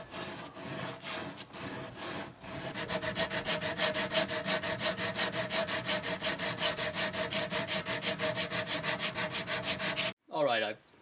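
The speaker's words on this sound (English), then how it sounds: "I'm going to do it with a piece of 120 grit sandpaper on my sanding block." A piece of 120 grit sandpaper on a sanding block is rubbed back and forth over wooden box corners in a fast, steady rhythm of close raspy strokes, with a few slower strokes at the start.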